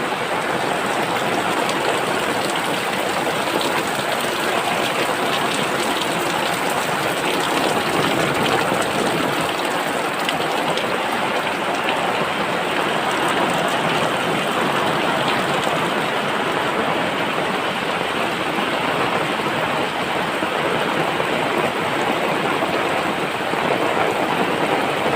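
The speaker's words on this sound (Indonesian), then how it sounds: "Musim hujan." Steady heavy rain pours over a rural village landscape, a dense unbroken hiss that stays loud and even throughout with no voices.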